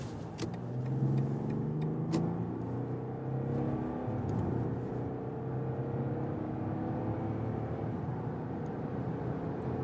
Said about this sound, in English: we start at about 50 kilometers an hour and accelerate it out